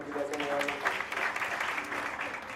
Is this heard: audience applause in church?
yes